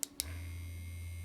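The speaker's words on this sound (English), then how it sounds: "It's super quiet tattoo machine." An EMALLA Grand tattoo pen with kickstart off runs as a steady, very quiet low hum, near and alone, opening with two brief clicks as it switches on.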